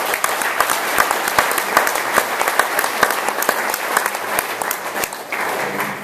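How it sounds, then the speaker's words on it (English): Steady applause from the audience at an auto body and paint awards ceremony, many hands clapping in a dense, continuous wash for the full stretch with sharper individual claps standing out. "So a bit of a clap for him anyway,"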